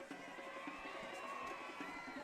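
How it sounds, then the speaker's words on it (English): A distant crowd cheers in the stands at a high school football game between Punxsutawney and Karns City, a faint, sustained roar with a murmur of voices rising briefly over steady outdoor background. "And you hear the cheer from the crowd."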